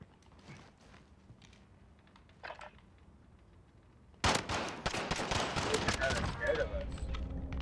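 Gunfire in the shooter Modern Warfare: after a quiet lead-in with a few faint clicks, a sudden loud burst of rapid automatic shots breaks out and keeps rattling densely to the end.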